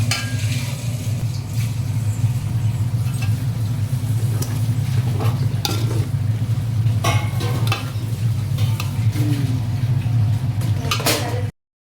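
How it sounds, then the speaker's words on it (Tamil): Chicken frying in oil for biryani sizzles loudly and steadily in the pan as it is stirred, with water poured in, scraping stir sounds breaking through a continuous low frying hiss, and no talking. "இப்போ கொஞ்சம் தண்ணி ஊற்றிக்கிறோம்."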